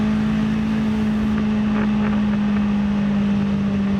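Tuned Hyundai Avante MD race car on a circuit, its engine droning steadily at a constant pitch while braking and cornering, heard from inside the cabin with heavy wind and road roar.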